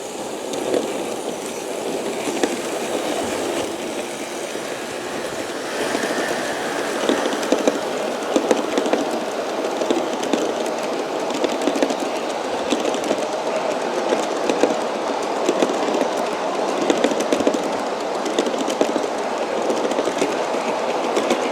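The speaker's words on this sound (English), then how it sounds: "So we'll catch the train coming down the hill here." USAT SD40-2 model train with two Geeps rolling steadily downhill, continuous rattling clatter and rhythmic clicking of wheels over track, fairly close and sustained, no voices.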